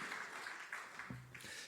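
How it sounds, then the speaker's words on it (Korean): Quiet clapping from a church congregation during a Wednesday worship service rises as a soft, distant wash, and a brief voice or tone cuts in near the end. "우리 다시 한번 큰 박수 올려드리도록 하겠습니다"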